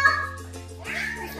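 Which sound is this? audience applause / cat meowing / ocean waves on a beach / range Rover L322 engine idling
cat meowing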